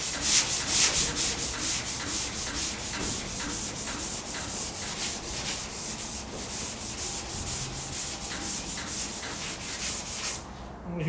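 Body filler on a Porsche 356 panel being hand-sanded in a steady run of rhythmic, close rasping strokes, each stroke scratchy and even, continuing almost without pause.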